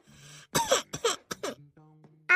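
An older woman coughs and clears her throat several times in quick, rough bursts at close range, with brief hums between, in a rural Awadhi household setting.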